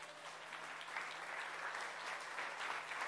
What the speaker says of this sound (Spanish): Denle un fuerte aplauso aquí a Pedro.